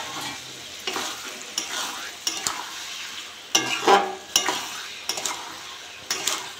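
Bombay duck fish is stirred in hot spiced oil, giving a constant sizzling hiss broken by sharp clinks and scraping bursts of the utensil against the pan, close and clear with no talking.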